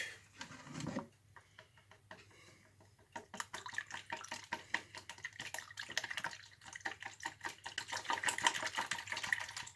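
Wire whisk beating eggs in a bowl during home cooking of chicken cutlets, a fast run of close, rhythmic clinking and sloshing strokes that starts after a brief pause and grows busier toward the end.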